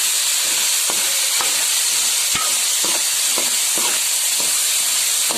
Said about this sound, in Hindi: अब मटर डाल के भी हम थोड़ा सा फ्राई करेंगे